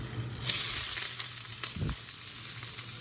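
Onion for a shrimp and tomato pasta sauce fries in a pan, giving a steady hissing sizzle with a brief soft bump partway through.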